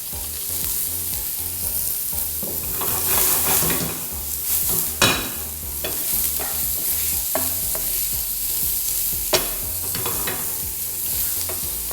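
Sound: mushrooms stir-frying in a pan

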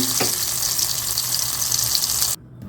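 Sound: tomatoes roasting on the stove for black chutney

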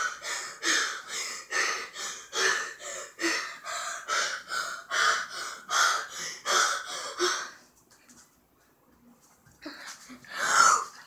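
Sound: person breathing hard before holding breath

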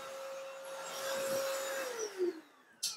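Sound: cordless vacuum and mop cleaning hardwood floor

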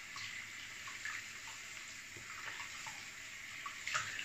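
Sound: warm tap water running for a rinse

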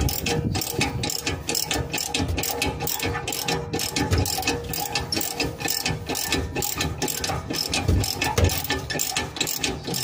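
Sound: ratchet wrench removing rear exhaust muffler bolts on Vectra

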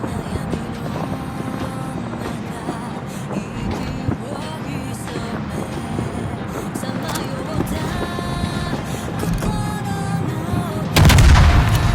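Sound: tank main gun firing in a video game

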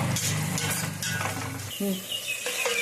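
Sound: onions frying in a pan

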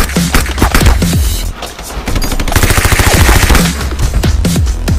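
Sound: gunfire from a weapon in a video game

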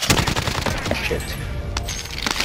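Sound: gunfire at a building in a video game

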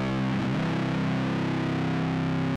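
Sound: distorted guitar root major third dyad sliding up

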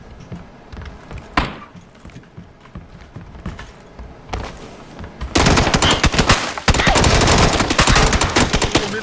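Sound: gunfire in a shooter video game

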